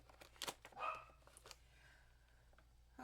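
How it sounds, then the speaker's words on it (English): Puppies barking indoors: a few sharp, fairly faint barks in quick succession, then a quieter stretch with no one talking. "the pups are barking"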